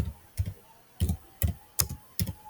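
Keys on a computer keyboard are tapped to enter a prompt, six soft separate clicks and short bursts spaced roughly evenly, close and fairly quiet with no talking.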